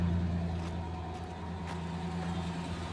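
A 2000 Ford Ranger engine runs with a steady, low mechanical hum that stays constant throughout, with no voices.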